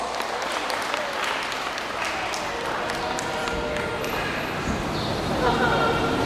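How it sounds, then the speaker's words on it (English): A graduation audience claps steadily throughout, a continuous crowd applause with a faint voice murmuring underneath. "Let's give her a round of applause."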